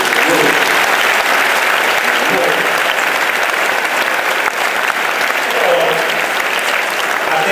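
A theatre audience at the Duse breaks into loud, dense applause, sustained clapping filling the room evenly with a faint crowd murmur beneath.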